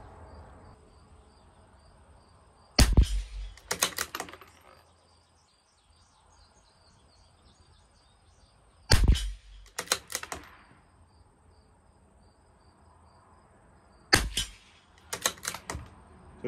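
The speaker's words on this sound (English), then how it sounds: "I'll do another 5 shots holding at the bottom edge of that diamond on the same target" A CZ 457 LRP rimfire rifle firing Lapua Long Range ammunition at a 50-yard range, heard as three sharp, loud cracks spaced several seconds apart, each followed by brief clicks of cycling the bolt, over a steady background of insect chirring.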